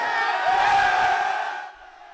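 A packed high school basketball gym full of cheering spectators, a loud sustained roar of voices and shouts that swells and then fades toward the end.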